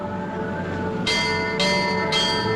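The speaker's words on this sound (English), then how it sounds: "He rang the signal bell 3 times and phoned a message through to the bridge." A ship's crow's-nest signal bell on the Titanic struck three times in steady succession, each bright metallic clang ringing on over a low background hum.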